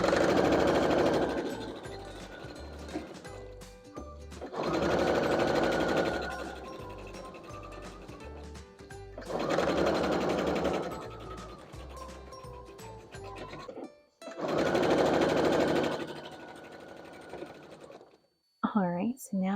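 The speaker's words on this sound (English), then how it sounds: "we are going to be sewing them together like this" A sewing machine stitches quilt block pieces for a Peony Star barn star quilt block, running in four steady mechanical bursts separated by short pauses.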